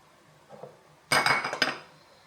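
Dishes and cutlery clink together in a short, close burst of clattering while lemon water is made in a kitchen, preceded by a few faint clinks and then fading to quiet.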